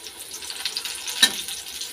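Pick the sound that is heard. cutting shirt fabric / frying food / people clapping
frying food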